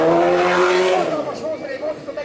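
A streetfighter motorcycle at a motorcycle show in Makó revs hard, its engine note rising and falling in quick bursts, loud and close, over a busy outdoor crowd.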